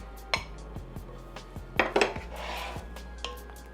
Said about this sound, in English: Now let's mix this all together.